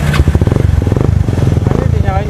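A Kawasaki Estrella 250 motorcycle engine fires up and runs with a fast, even thumping pulse, loud and close, revving slightly, with a voice briefly heard near the end.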